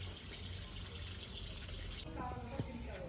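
Water runs and splashes steadily, like pouring from a tap, with some clatter and faint voices in the background.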